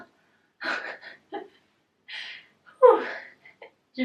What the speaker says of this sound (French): je suis déjà essoufflée